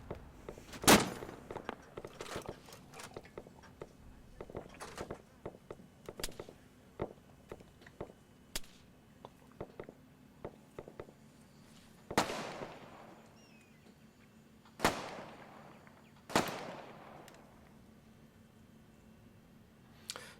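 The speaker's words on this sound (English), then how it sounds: "I can hear a lot of firing going on" In Arma 3, scattered gunfire and explosions echo from a distance as faint sharp cracks and irregular pops, with a few louder booming bursts that tail off into reverberation.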